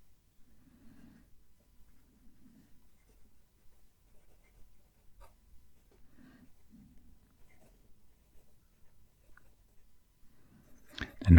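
A dipped fountain pen filled with Diamine Spiced Apple ink writing a sentence on paper: soft, close scratching strokes in short repeated bursts with pauses between words, ending in a louder scrape.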